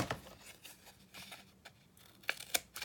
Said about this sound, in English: So again, see, my scissors don't get stuck.